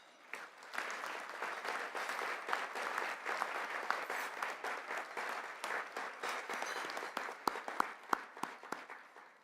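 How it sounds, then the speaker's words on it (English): An audience at a breakfast plenary session applauds for standing Gold Star families, a sustained round of clapping that swells and holds, with a few sharper individual claps near the end. "Let's give them a round of applause."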